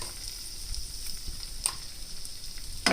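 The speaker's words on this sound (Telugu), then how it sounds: "లైట్ గోల్డెన్ కలర్ వచ్చే వరకు ఇలా ఫ్రై చేస్తూ ఉందాము." Cashews, thinly sliced garlic, chili flakes and cumin frying in a pan, a soft, close sizzle with a few faint clinks of stirring.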